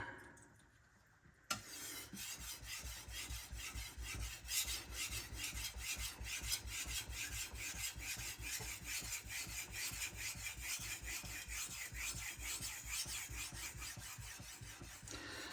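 A blade is sharpened on a soft Nano Hone diamond resin stone: after a brief quiet start, a continuous rhythmic scraping and rasping of steel drawn back and forth across the abrasive, close and steady, with no talking.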